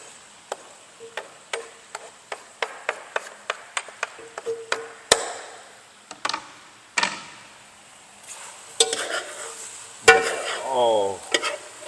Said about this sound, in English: about to drop these onions in there